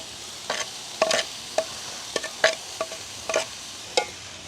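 Fried peanuts and plums stirred into leeks and carrots frying in a home village kitchen, heard as soft sizzling under a series of short, crisp spoon scrapes and clinks against the pan at irregular intervals.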